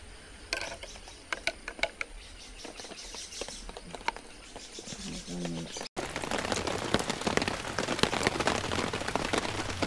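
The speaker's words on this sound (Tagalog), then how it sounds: "hindi ko kayo mailibot sa area gawa ng umuulan. Umuulan pa rin." Rain falling steadily at a forest spring resort, a soft patter with scattered drops that turns into a dense, loud hiss halfway through, with birds faintly in the background.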